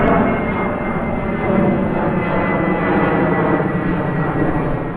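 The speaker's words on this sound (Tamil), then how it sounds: "டெல் அவீவ் நகரத்துல நம்ம விமானம் தரையிறங்கும் காட்சியை நீங்கள் தற்பொழுது" A loud, constant roar of airplane engines inside a cabin during landing at Tel Aviv, broad and unbroken throughout.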